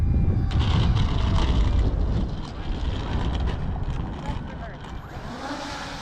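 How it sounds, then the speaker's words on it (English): Wind gusting across the microphone at a model airplane flying field, a loud rumbling buffet that eases off over a few seconds, with faint background noise. "Oh, wind's picking up."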